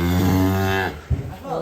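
A giant cow in a pen lets out a long, deep, loud moo close by, ending abruptly, followed by a short low grunt and shuffling.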